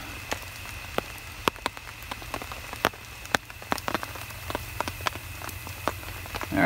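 Heavy rain falling outdoors at a wilderness survival camp and filling a rain collector, a steady hiss over which sharp, irregular drops tap and plink loudly and close by, with no voices.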